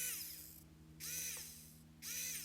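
A BECEMURU 69-in-1 electric screwdriver motor whirs in three short, quiet bursts with brief pauses between, a thin high-pitched buzz over a faint low hum, heard up close without talk.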